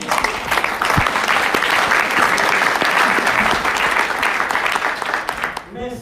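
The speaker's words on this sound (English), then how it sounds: "One is to applaud everyone that got through the Tier 1, 2, 3, 4 reporting awards last night" Conference audience at a financial reporting session applauding award winners, a full, continuous round of clapping from many hands that holds steady before tapering off at the end.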